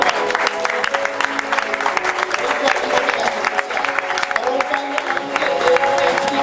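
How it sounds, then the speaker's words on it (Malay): An audience applauds and cheers for Puan Julie at a sharing event: dense, steady clapping from a crowd that fills the room without a break, with a faint musical tone underneath. "kita bagi satu tepukan yang luar biasa hebat kepada Puan Julie"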